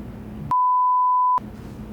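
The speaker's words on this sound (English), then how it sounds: "you'll have to beep that out" A single steady electronic beep, a pure tone of almost a second, abruptly cuts in over faint background noise.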